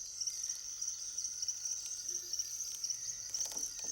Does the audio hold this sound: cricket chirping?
yes